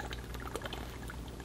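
Tea poured into a cup, a soft continuous liquid trickle and splash, fairly faint and close, lasting the whole brief moment with no talk.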